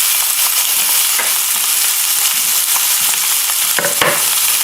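Stuffed breast of veal browns in a hot pan, a loud, continuous sizzle and crackle with occasional sharper pops, heard close with no talking.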